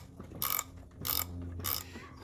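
A press tool being tightened down on a Saginaw power steering pump during a rebuild, three sharp ratcheting bursts spaced about half a second apart, close and mechanical over a faint background hum.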